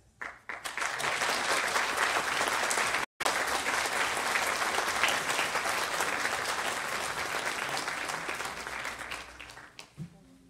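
Audience applause at the close of a university orchestra concert, sustained dense clapping for about ten seconds with a brief cut partway, slowly fading at the end.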